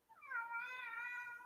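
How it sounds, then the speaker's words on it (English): A house cat gives a single long, rising-then-steady meow, close and clear against a quiet room. "That is my cat making a visit."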